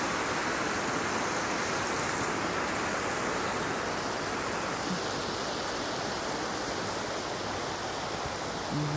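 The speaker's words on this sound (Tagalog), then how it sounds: "Yung sapa na yung tubig na umaagos kanina." A stream flows beside a free campsite in Bridger National Forest, next to a river, giving a steady, loud broadband wash of rushing water that holds constant for the whole stretch with no voices.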